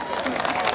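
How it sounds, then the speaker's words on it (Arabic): Festival concert audience applauding and cheering for a band member on stage, a dense steady wash of clapping and crowd noise with voices mixed in throughout. "صفقوا له"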